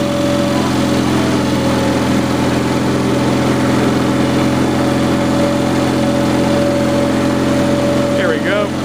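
A Cub Cadet 1420 Hydro lawn tractor engine runs loud and close with a steady droning hum, while a voice speaks briefly over it near the end.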